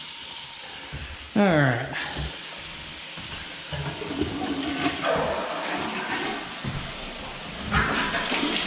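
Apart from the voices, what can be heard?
water running from a tap during a home inspection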